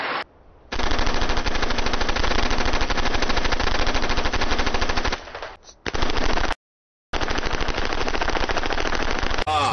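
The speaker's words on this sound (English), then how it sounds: "MP5 machine pistol. OK, fully automatic." An MP5 machine pistol fires fully automatic in long, loud, rapid bursts, a dense continuous rattle broken by short pauses and one abrupt silence before firing resumes.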